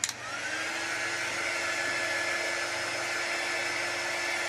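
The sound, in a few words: hair dryer drying an etched craft piece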